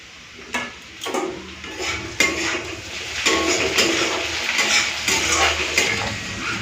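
Spiced mustard sauce simmers in a pan for Bengali rui fish with fried eggplant, with repeated metal utensil clinks and scraping stirs over a soft, steady bubbling.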